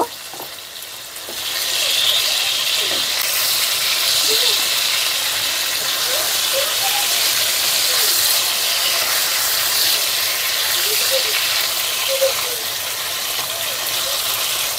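Hilsa fish, eggplant and tomatoes fry in oil in a covered pan, giving a loud, steady, close sizzle that runs on without a break.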